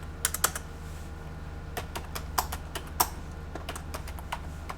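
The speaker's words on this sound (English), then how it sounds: "And I'm going to type in here" Keys clatter on a computer keyboard in short irregular bursts of clicks, close and moderately loud over a steady low electrical hum, with no talking.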